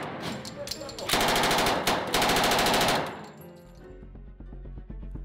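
A Thompson model 1928 submachine gun fires two loud, rapid automatic bursts at close range, followed by a quieter stretch of echoing, scattered shots and a low rumble.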